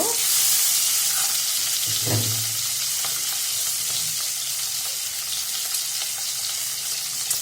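Beaten eggs mixed with turmeric and salt fry in a pan of hot oil, giving a loud, continuous sizzle and hiss that stays strong across the clip, with a faint stir partway through and no speech.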